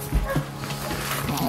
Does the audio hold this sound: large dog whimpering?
yes